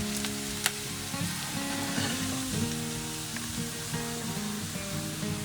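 Onion and garlic frying in oil in a pan for a pea and spinach curry, a steady loud sizzle with crackling and occasional stirring clinks close by, no talk.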